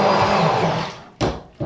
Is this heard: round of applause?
no